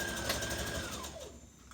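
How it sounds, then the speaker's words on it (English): A sewing machine stitches a 5/8-inch seam on a Butterick 5559 misses' dress, its steady, fast whirring motor heard up close before it winds down and slows near the end. "place your dress under your sewing machine, and we're gonna stitch 5/8 of an inch seam allowance"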